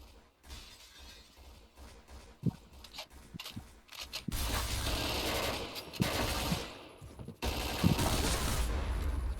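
Rapid automatic gunfire in the Point Blank online shooter, starting as scattered shots and glass shattering, then swelling into long, loud, sustained bursts close by.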